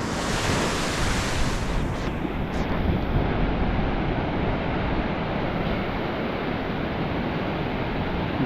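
Ocean surf washes onto a shore in a dense, steady roar mixed with wind buffeting the microphone, loud and continuous with no voices.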